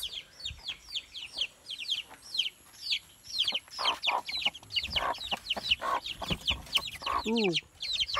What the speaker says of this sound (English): Let's check the chickens.